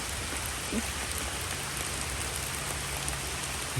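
Steady rain falling on surfaces outdoors in a palm grove, a dense continuous hiss of drops with no pauses, even and close throughout.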